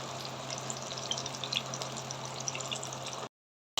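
Chicken wings fry in hot bubbling oil, a steady close crackle and hiss with scattered pops, then the sound cuts off abruptly near the end.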